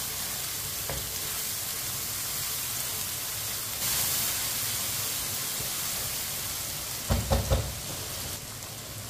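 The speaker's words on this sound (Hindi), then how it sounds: "टमाटर को भी 2 मिनट के लिए पका लेते हैं।" Tomatoes softening in a pan, a continuous sizzling hiss with a brief louder flare midway and a few scraping knocks of a spoon stirring near the end.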